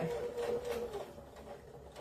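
Domestic sewing machine stitching slowly through a thick section of fabric on a glasses pod, a steady motor hum with mechanical chatter running continuously and fairly close, no talking.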